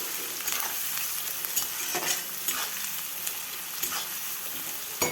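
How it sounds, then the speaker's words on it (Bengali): Sliced onions fry in a wok with a continuous hiss and crackle, punctuated every second or so by short scraping strokes of a spatula; no voices. "এবার পেঁয়াজগুলো মোটামুটি এখানে ভাজা হতে হবে।"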